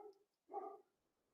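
A next-door neighbor's dog barks twice at a distance, one short muffled woof followed by a fuller bark, faint and alone in an otherwise quiet room.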